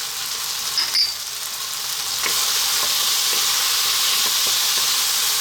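Spices and fresh chili sizzling in a hot pan for saag aloo, a steady close hiss and crackle with a few soft stirring taps, no talking.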